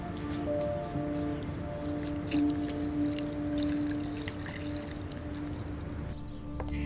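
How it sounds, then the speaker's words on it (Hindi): Water is poured out in a steady, splashing stream with a few drips, heard close under soft background music, with no talking. "बाकी सारा पानी इसमें डाल दो।"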